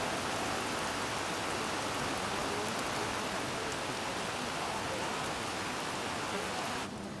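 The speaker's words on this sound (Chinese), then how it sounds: "天公不作美，又下大雨" Heavy rain pouring down steadily, a dense, loud broadband hiss of rainfall continuing without break, no voices standing out.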